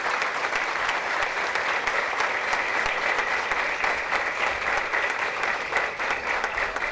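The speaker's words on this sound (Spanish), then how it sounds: "Yo le pido a todos los demás que le demos un fuerte aplauso a Corea" Sustained, dense applause from a large audience at an anniversary ceremony for the 911 emergency system, steady and loud for the whole stretch with no voices standing out.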